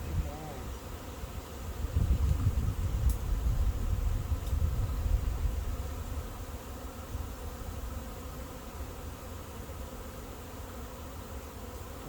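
A dense, low buzzing of many bees in a swarm moving into a swarm trap surrounds the listener, swelling loudest early on and then settling, with strong wind noise mixed in.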